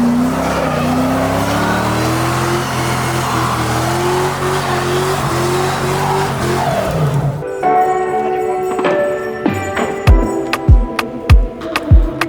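A Mustang V8 swapped into a BMW E46 drift car revs loudly and close by with a rough, wavering engine note. It then cuts off abruptly, leaving sharp intermittent ticks and clicks.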